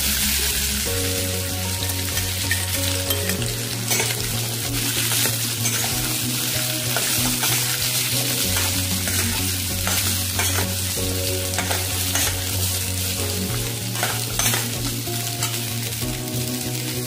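Raw mango slices fry with cumin seeds in hot oil in a pan, giving a dense, steady sizzle with frequent stirring scrapes, all running beneath tonal background music.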